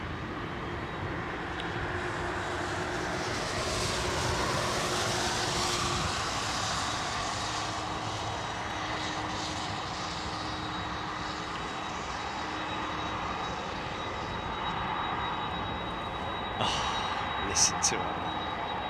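Boeing 747-400 jet engines start up at Anchorage, a broad, sustained turbine roar and whine heard from nearby across the ramp, steady throughout with a few brief sharper noises near the end.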